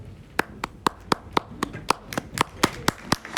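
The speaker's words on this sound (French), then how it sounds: "Moi, j'applaudis." Sharp, evenly spaced hand claps, about a dozen over a few seconds, from a single person at a French political debate on media and the far right, close and distinct over a faint room murmur.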